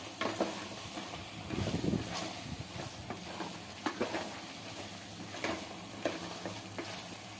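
Chicken being stirred in a pan with fried masala powder for a chicken gravy, a steady close sizzle broken by repeated scraping and clattering stir strokes, with no talking.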